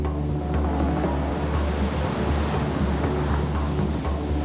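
Ocean surf crashes at a beach in Bali during a tourist rescue, a dense, continuous roar of breaking waves. Faint repeated higher ticks sit over the wash, and no one speaks.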